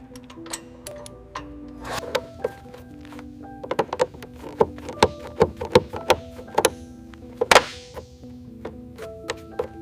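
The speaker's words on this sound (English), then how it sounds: "switch to the torque wrench. Let's get the final click." A torque wrench tightening a fastener on the landing gear of a WWII P-51 Mustang aircraft, heard as a series of sharp metallic clicks and thunks at irregular intervals, close by and clear against a quiet background.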